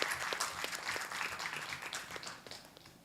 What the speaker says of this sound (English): our Dr. Padma Bhushan, Dr. K.R. Palniswamy, with a very big applause.